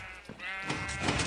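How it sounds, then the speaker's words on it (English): A sheep in the Minecraft video game bleats in a single drawn-out, wavering call lasting about a second, clear and close, with no talking over it. "And it looks like our sheep are ready to harvest again."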